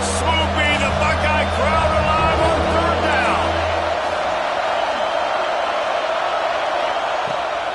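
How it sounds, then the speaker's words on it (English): A stadium crowd in an American football video game roars loudly, a dense swell of cheering and hubbub with tones mixed in that thins into a broad, steady wash of noise. "Listen to this crowd just shaking the girders of this place trying to help their defense"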